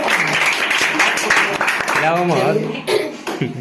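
Loud clapping breaks out among students at a maths prize distribution, mixed with a cough or throat clearing and a voice talking over it.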